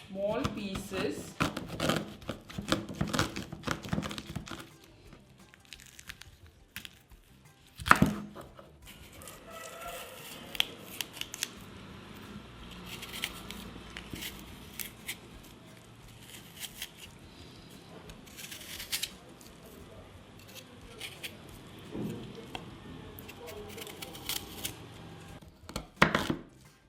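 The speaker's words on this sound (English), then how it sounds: "Peel the fruit, then chop the carpels into small pieces." A knife chops peeled elephant apple carpels into small pieces, making scattered, irregular close cutting clicks and taps over a low, busy background.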